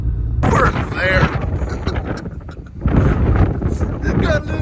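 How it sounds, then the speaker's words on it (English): Strong, gusting wind in a heavy snowstorm buffets the microphone with a steady roar, heard outdoors near a farm at night, while people talk excitedly over it. "This is like windy, nasty, no good stuff."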